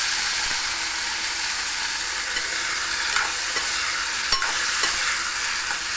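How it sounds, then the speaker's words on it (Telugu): Cauliflower pieces frying with onions in a pan give a steady, close, even sizzle with faint stirring scrapes, and nobody speaks. "ఈ క్యాలీఫ్లవర్ ముక్కల్ని వేసేసుకుందాం."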